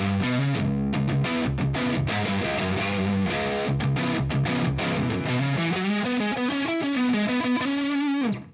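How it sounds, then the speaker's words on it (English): Heavily distorted electric guitar from a 1988 Charvel Model 1C with single-coil pickups plays a fast riff of chugging chords and sustained notes, loud and saturated, ending with a held chord that cuts off. "Giving you almost the same amount of distortion than the humbucker does"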